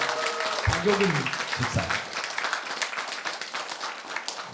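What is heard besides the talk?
congregation applauding in church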